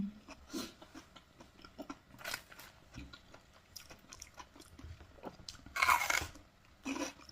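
Close, crisp crunching and chewing of wild garlic in bamboo shoot curry eaten with rice noodles: soft bites and mouth sounds with a few sharper, louder crunches toward the end, no talking.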